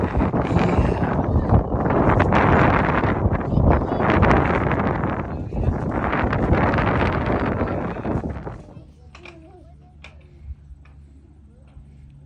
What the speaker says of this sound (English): Otto, it is so windy.